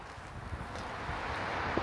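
Wind buffeting a microphone outdoors beside a 2022 Honda Passport TrailSport, a low irregular rumbling roar that swells slightly toward the end, close and moderately loud, no speech.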